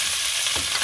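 Carrots, celery and onions sauté over medium-high heat in a pan for Italian wedding soup, making a loud, steady, close sizzle with a faint stir near the end.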